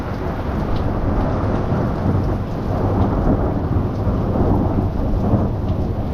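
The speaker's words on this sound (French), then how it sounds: "C'est un bel orage, hein." A moderate thunderstorm passing over the Chartreuse area of Liège, with loud continuous rain and deep rolling thunder filling the whole stretch, with no voices.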